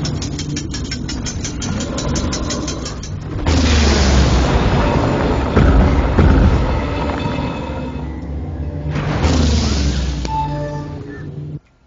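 Rocks hurled by giants on a shore explode in Guild Wars 2 as heavy, loud booming rumbles that rise in two long swells over game sounds and faint musical tones.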